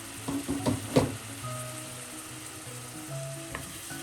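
Cabbage and carrot thoran for a Vishu sadya sizzles in a pan as it is stirred, with a cluster of utensil clanks at first, then a gentle steady frying hiss.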